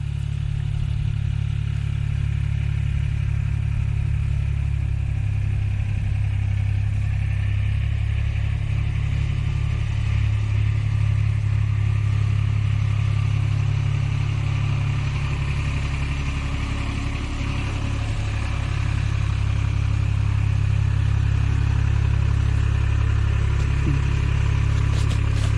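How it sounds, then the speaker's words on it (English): Tractor engine rumbling along at walking pace, about 5 km/h, a steady loud low drone that stays close and constant throughout, with no voices. "Just traveling around on his tractor, 5 kilometers an hour."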